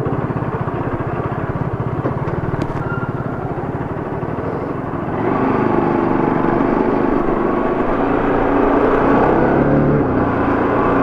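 A motorcycle rides through Mumbai at night in fourth gear, its engine droning steadily and growing louder about halfway through under constant wind and road noise, with no talk.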